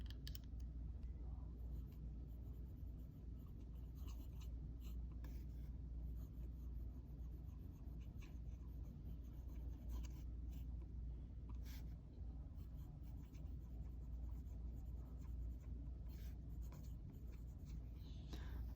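A vintage J. Harris & Co. University fountain pen inked with Diamine Autumn Oak scratches softly across paper in a continuous, faint, close-up writing sound with small ticks and strokes, no talking.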